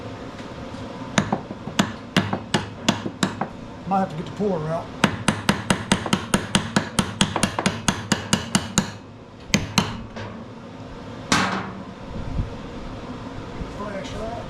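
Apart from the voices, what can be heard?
hammer tapping on metal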